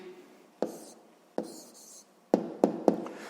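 A pen writes an answer by hand on paper for a sixth-grade maths exercise, making a few short scratchy strokes and taps separated by pauses, close and fairly quiet.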